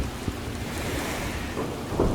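Stormy island weather in a video game: steady rain hiss and a low rumbling thunder bed near a beach, with a couple of soft thumps, continuous and moderately loud with no speech.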